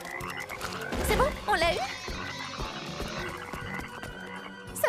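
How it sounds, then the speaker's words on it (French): A cartoon frog croaks in a few close, warbling bursts over background music, with brief character dialogue alongside. "Grenouille."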